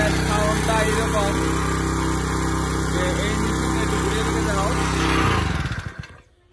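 A small farm machine engine, started by pull cord, runs with a steady loud droning chug, then cuts off abruptly near the end and fades out.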